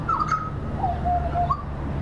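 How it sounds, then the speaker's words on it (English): A butcherbird sings in the open on a hot morning, its clear, fluting whistled phrases rising and falling over a steady low background hum. "That's a butcher bird just having a little chat to me. I love their songs."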